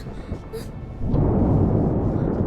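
Thunderstorm with a deep rumble of thunder that swells in abruptly and rolls on loudly beneath a dark, stormy background.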